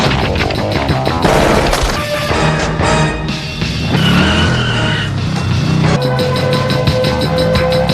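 A motorcycle chase from a Terminator film: loud, dense action sound with repeated tire skids and screeches, engine roar, and crash-like impacts layered over a driving music score.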